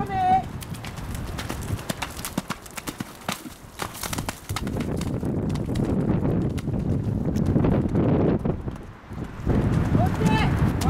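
A Gévaudan-bred horse for sale gallops in a rhythmic run of clip-clop hoofbeats. Wind buffets the microphone and people talk over the hooves.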